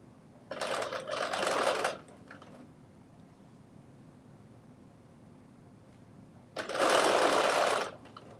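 A sewing machine stitches a seam on an oversized puffy-sleeve dress in two loud, close bursts of rapid whirring, the second coming after a quiet pause of several seconds.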